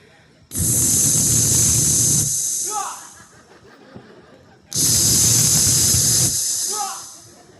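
Two long, loud bursts of fragrance spray hiss out at close range, each lasting about two seconds, with a brief pause between them and a little quiet talk and laughter in the gaps.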